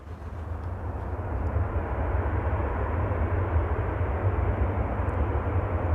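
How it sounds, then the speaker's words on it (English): A jet airliner departing from runway 24 at Amsterdam Schiphol Airport, heard in the distance as a steady, broad rumbling roar that holds evenly throughout, with no talking and calm, nearly windless outdoor conditions. "you can see some of the departures"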